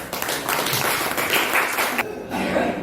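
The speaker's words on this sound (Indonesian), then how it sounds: "Kita beri aplaus." An audience gives steady applause after a classroom group presentation, a dense, continuous clapping that briefly dips near the end and then picks up again.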